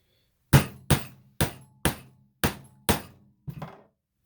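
Seven sharp hammer strikes land close by at a steady pace, each a crisp, loud knock with a short decaying ring, as rivets are set into a leather Zippo lighter case. The final blow is softer.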